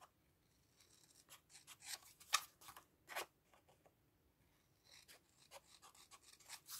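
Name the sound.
scissors cutting paper corners for a mini album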